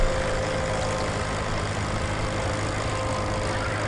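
A vintage International AWD6 tractor works hard during a tractor pull, its engine droning in a steady, loud, low rumble with no breaks, no voices over it.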